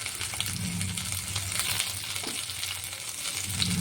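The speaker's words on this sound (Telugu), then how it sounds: "ఆయిల్ హీట్ అయిన తర్వాత ఇందులో కొద్దిగా ఆవాలు వేసుకొని తర్వాత ఇందులో మనం కట్ చేసి పెట్టుకున్న పచ్చిమిర్చిని కూడా వేసుకోవాలి" Mustard seeds and cut green chillies sizzle in hot oil for a puffed-rice upma, a close, steady crackling fry with faint popping, quiet and without talk.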